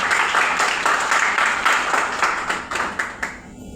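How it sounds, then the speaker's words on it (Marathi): An audience at a Samarth Success Life company event applauds with dense, rapid clapping from many hands that stays loud and full, then thins into a few scattered claps at the close. "यांच्यासाठी जोरदार टाळ्या वाजवायला पाहिजे"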